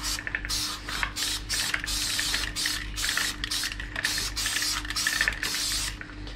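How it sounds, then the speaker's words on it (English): Short bursts of hissing aerosol chain lube spray onto a motorbike chain in quick succession, close by, over a low steady mechanical hum. "Lube her up now. Alright, give it a spray"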